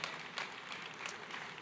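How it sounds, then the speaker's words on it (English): Audience applause at a town hall with a pastor in Pennsylvania, a short burst of scattered clapping from the room, fairly faint and steady, with no talk over it. "I appreciate y'all clapping that"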